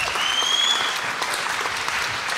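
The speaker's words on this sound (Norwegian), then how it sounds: "Stor applaus til alle sammen da." An audience applauds at a 2020 stage show in Norway, a steady dense wash of clapping from a full hall, loud and continuous throughout, with a thin whistle rising briefly near the start.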